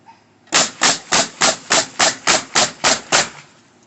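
Hammering to tack a wooden fence picket: ten sharp, evenly spaced blows land in quick rhythm, loud and close, with no talk.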